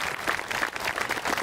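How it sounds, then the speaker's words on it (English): Audience at a Tea Party rally at Independence Hall giving a short round of applause, a dense, even patter of many hands heard from within the crowd. "Nice round of applause for the organization that goes into this."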